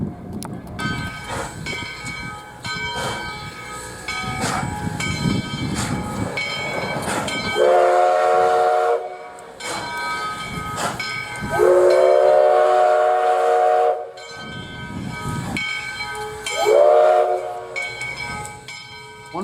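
US Sugar steam locomotive 148 rumbles and clanks along the rails at Port Mayaca, Florida, sounding its steam whistle in three loud, sustained blasts over the heavy rolling train noise.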